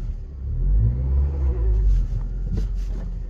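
A 2015 Honda Civic Si pulling away on a short test drive after a rear brake pad job, its engine giving a steady close rumble that swells and eases as it accelerates.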